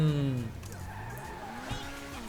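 A BMW 4.4 drifts in GTA V, its tires squealing in long sliding tones that bend in pitch over a steady engine drone, loudest at the start and then settling into a sustained, close skid.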